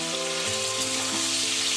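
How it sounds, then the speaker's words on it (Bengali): Rasgulla fry in butter in a pan over lowered heat. A loud, dense, steady sizzle continues without a break, with faint stirring under it. "বাটারে ভাজছি তো"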